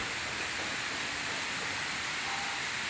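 Water falls from a height in a steady broadband rush, a continuous hiss of cascading flow heard from nearby with no breaks, loud and even throughout.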